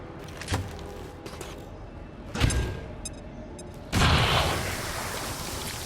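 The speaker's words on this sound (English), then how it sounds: "let's start things off by hitting these guys with an acid grenade" An acid grenade in XCOM 2 goes off as a sudden, heavy burst that hangs on in a sustained hiss and rumble, following a few sharper thuds and pops.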